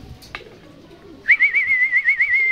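A pigeon in a loft gives a steady warbling coo that rises and falls in regular pulses for over a second, preceded by a few faint chirps and a brief knock.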